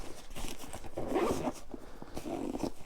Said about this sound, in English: we zip it all up from there